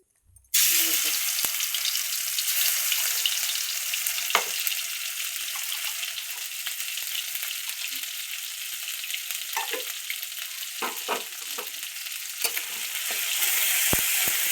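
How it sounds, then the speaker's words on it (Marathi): Roasted masala with peanuts and chickpeas frying in hot oil for a fish dish, giving a loud, steady sizzle that runs throughout with occasional stirring scrapes. "चांगलं तेलात पडतायत बरं का"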